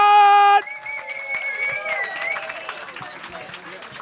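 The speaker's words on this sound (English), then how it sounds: "Start clapping one more time! And cheer for Dustin Moore, everyone!" A comedy club audience claps and cheers after a loud electronic tone cuts off, crowd noise filling the room with scattered whoops and voices mixed in at moderate level.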